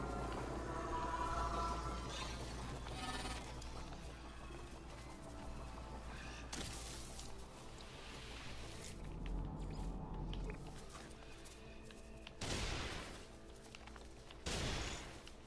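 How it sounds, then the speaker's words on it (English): A scatter blaster gun in No Man's Sky fires a few scattered, punchy blasts over ongoing game music and ambience, faint overall. "I need to pull out a gun. So I have a scatter blaster"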